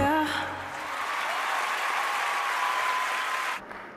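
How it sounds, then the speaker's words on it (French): Thin applause from a few people at a music awards live set, steady and fairly quiet, then cutting off abruptly near the end. "il y a quelques applaudissements"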